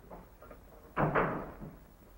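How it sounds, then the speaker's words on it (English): A door swings shut in a 1943 wartime drama scene, making a soft double thump that is muffled and fairly quiet against faint room noise, with no speech over it. "Shut the door, please."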